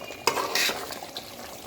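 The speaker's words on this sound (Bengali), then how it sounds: "আমি একটু নাড়াচাড়া করে দেখছি দুটি।" Cooked chicken stirred in a pot, with a couple of quick metallic scrapes and clinks of a utensil over a faint sizzle, brief and close.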